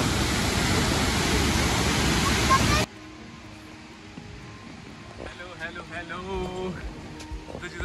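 Thoseghar Waterfall in Satara, India: a loud, steady roar of falling water for a few seconds, then it cuts abruptly to a quieter scene with voices talking.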